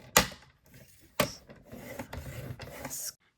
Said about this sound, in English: I'm using my trimmer here to score